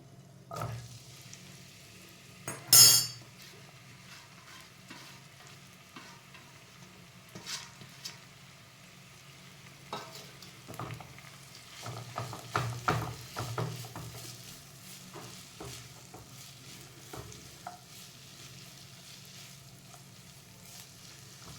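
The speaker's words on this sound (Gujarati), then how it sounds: "હવે ઘી ઓગળી જાય એટલે આપણે હળદર બધી એડ કરી દેવાની" Fresh turmeric frying in melted ghee in a pan for a winter haldi sabzi, a low steady sizzle with a sharp clatter near the start and bursts of stirring scrapes midway.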